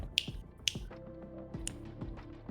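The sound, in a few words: finger snapping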